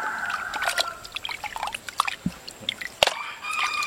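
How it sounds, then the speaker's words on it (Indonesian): Beef tripe being scrubbed and rinsed in water, with close, irregular drips, trickles and soft sloshing splashes, a few sharper wet slaps in between, and no talking. "Nih, pertama-tama kan kita cuci dulu nih. Kita gebrusin ke air."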